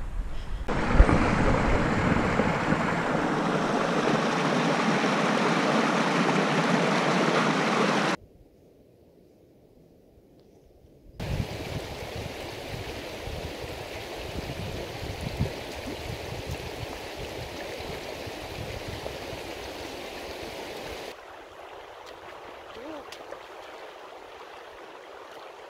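Broadband rushing water from a river crossing on a mountain path near Haweswater in the Lake District. Loud and steady for several seconds, then a brief hush. A softer continuous flow returns and fades slightly toward the end.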